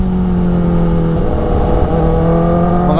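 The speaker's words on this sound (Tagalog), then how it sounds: "Mga tricycle, motor." Tricycles and motorcycles passing on a road near Lucban, Quezon, a loud close engine drone with revving small motors shifting pitch as vehicles go by.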